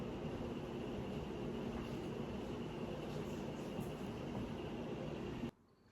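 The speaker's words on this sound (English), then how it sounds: "I forgot to turn off my little portable ice maker by the sink that roars." A portable ice maker by a sink gives a steady, loud mechanical roar with a faint high whine that runs continuously, then cuts off abruptly near the end, leaving near silence.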